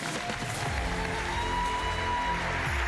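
Applause from a conference audience greeting a keynote speaker at an AI event, a steady dense wash of clapping throughout, with faint music tones underneath.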